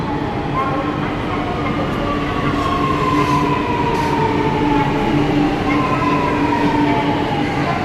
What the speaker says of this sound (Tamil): Next train to airport is arriving on platform 1.